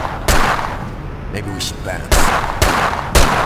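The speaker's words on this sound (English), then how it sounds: "Bro, do you not have to ever reload that gun?" Video game gunfire from 25 to Life: loud, sharp gunshots ring out, four main blasts spaced irregularly over a few seconds, with someone talking briefly in between.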